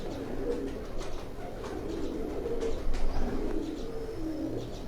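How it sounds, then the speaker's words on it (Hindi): Lakha pigeons on a rooftop in Jalalpur Bhattian coo softly in low, rolling murmurs, several birds overlapping at moderate distance, with faint chirps and a background hum. "ये मेरे हाथ में आप कबूतर देख रहे हैं"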